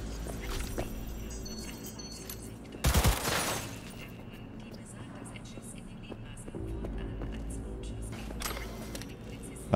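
One short, loud burst of gunfire in Cyberpunk 2077 cracks out near the start, then fades into a low hum and scattered game noise while someone talks intermittently.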